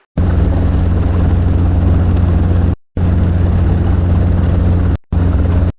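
Loud, close, steady rotor and engine drone from a Robinson R22 helicopter in flight, broken by two short gaps of silence, with a constant low thumping beat.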